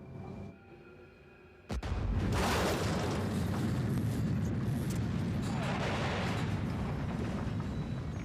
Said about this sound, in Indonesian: Seketika itu juga bomnya meledak.